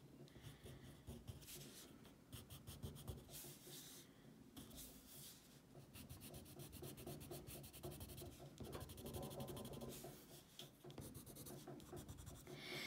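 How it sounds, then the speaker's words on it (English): A white colored pencil smudges across paper in steady, close, continuous scratchy rubbing strokes with short pauses, faint but sustained throughout. "take my white pencil, and I'm just going to go in and smudge around on"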